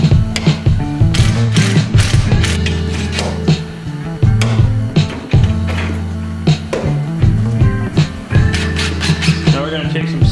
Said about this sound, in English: Now we can go ahead and put our clamp on.